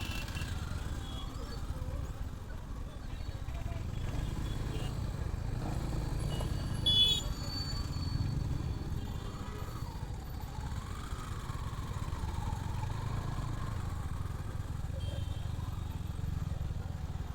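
Royal Enfield Hunter 350 motorcycle riding through traffic, a steady low engine rumble with other vehicles around, continuous and moderately near, with a rider talking over it now and then.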